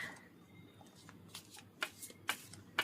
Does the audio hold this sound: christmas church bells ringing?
no